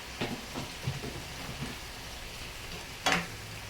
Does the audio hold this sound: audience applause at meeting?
no